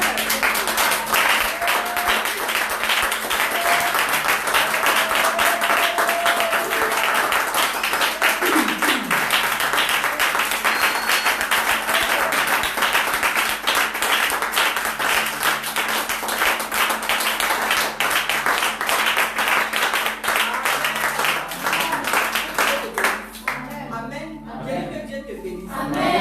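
A church congregation breaks into sustained, loud applause, dense clapping filling the hall for over twenty seconds before tapering at the end, with faint voices mixed in.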